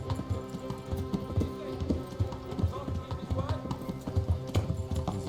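Horse hooves clip-clopping in the medieval game Kingdom Come: Deliverance, a quick rhythmic run of hoof beats at close range with jingling tack, continuing over several seconds while people talk.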